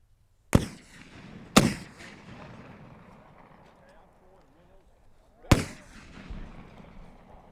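A muzzle-loading gun fires three loud sharp reports with echoing decay: two close together, then one a few seconds later, with a voice talking quietly between them outdoors.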